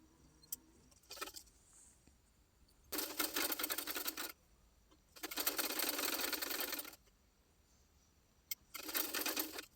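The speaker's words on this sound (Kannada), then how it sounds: "ಇವನ್ನ ಈಗ ಎರಡು ಜಾಯಿಂಟ್ ಮಾಡ್ಕೊಳ್ತಾ ಇದ್ದೀನಿ." A sewing machine stitches blouse fabric pieces together in three steady bursts of rapid whirring clatter, each lasting one to two seconds, with small clicks and quiet pauses between runs, close up and without talking.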